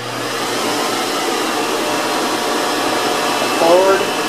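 Monarch 10EE lathe running at about 2,000 RPM with an 8-inch chuck, a steady broadband whir with a faint whine, constant and fairly close, with a brief rise near the end.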